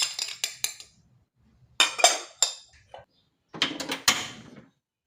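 Metal spoon clinking against a pot while a spoonful of palm sugar is added to a herbal cough remedy, several bright chinks in short clustered bursts separated by quiet pauses, close and distinct.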